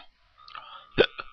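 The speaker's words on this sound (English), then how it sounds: "I have the hiccups" A person hiccups, a sharp voiced gulp followed by a second weaker one, close and alone after a brief breathy vocal sound.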